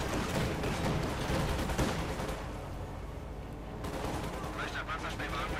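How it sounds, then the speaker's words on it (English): Company of Heroes 2 game combat with Panzergrenadier infantry firing: rapid, dense gunfire bursts and crackling shots, fairly loud and continuous, easing midway before picking up again, with a commentator's voice partly audible. "Panzergrenadier moving up there, firing away."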